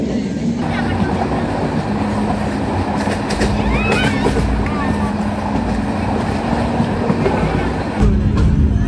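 Parabat Express passenger train running from Dhaka toward Sreemangal, Bangladesh, rolls along with a loud, steady rumble and rattling clatter, with occasional thin metallic squeals on top and faint voices underneath.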